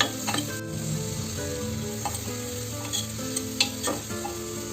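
Onions sauté with spices in a pan for vegetable pulao, a continuous close sizzle with periodic scraping stirs and light clinks of a spatula against the pan, no voices.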